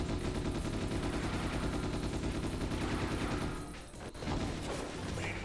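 Video game gunfire, a dense and continuous rattle of shots from snipers in a Ghost in the Shell shooter, loud and unbroken, dipping briefly near the end before resuming.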